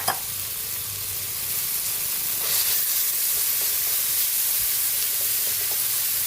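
Ground pork dropped into a hot pan with tomatoes and garlic, a steady bright sizzle and hiss that grows louder after a moment and carries on with faint stirring clatter.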